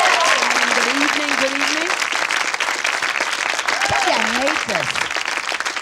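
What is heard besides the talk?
audience applause for comedian Pudgy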